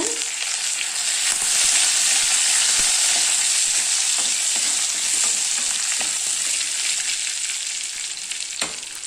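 Mustard seeds and curry leaves spluttering in hot oil for an elephant yam curry, a loud continuous sizzle with scattered sharp pops and crackles throughout, close up and without talk.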